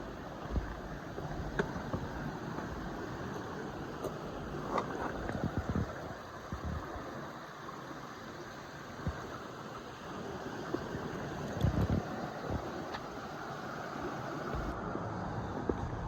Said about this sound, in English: Oh, there's that nice creek right here.